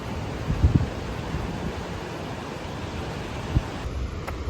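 A steady, broadband rush of falling water roars from somewhere out of sight along the Pacific Crest Trail, continuous and fairly loud, with a few soft thumps near the start and no talking.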